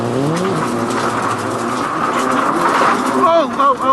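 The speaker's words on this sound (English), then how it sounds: "The right front tire's been punctured, and the rough roads are shredding what's left of it." A rally car with a punctured, shredding right front tire roars close by on rough roads, its engine straining and tires scrabbling, with a commentator's voice running over the noise.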